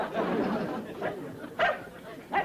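A dog barks and whimpers in a sitcom scene, a few short yelps spaced unevenly, close by, with voices murmuring around it.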